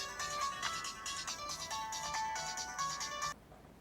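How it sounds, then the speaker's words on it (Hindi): A mobile phone ringtone plays a bright, repeating electronic melody in a home drama scene, then cuts off abruptly, with no talk over it. "इमरान की अम्मी का फोन है।"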